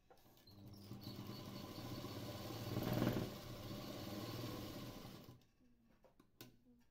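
Sewing machine stitching the hem of a frock, a rapid, even mechanical whir that rises briefly mid-run, then stops, leaving a few faint clicks and handling noises.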